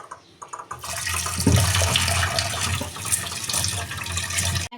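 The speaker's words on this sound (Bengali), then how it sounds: "তো আমি এখন এই ডালগুলোকে ধুয়ে নেব।" Mung beans, peas and chickpeas are rinsed in water in a home kitchen, with a steady rush of running water and splashing that holds close and fairly loud for several seconds, no voices.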